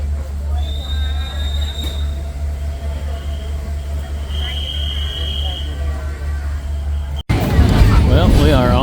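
Low rumbling hum of a train in motion from Kuala Lumpur toward Thailand, with a few faint squeals and tones, then a sudden louder burst of clattering noise near the end.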